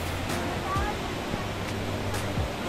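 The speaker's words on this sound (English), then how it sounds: "there was too much of sound of the waterfall" Vickery Creek Falls near Roswell Mill, a steady broadband roar of rushing water heard from close by, with faint low hums and a few brief thumps mixed in.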